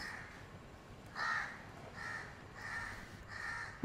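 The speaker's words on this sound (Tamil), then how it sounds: "ஒரே காக்காலாம் கத்துது." Crows caw outdoors, four separate calls spaced about a second apart, clear but moderately distant, with no talking.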